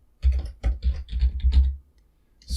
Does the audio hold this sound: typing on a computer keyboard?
yes